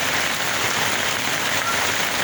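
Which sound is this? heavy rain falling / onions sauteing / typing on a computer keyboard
heavy rain falling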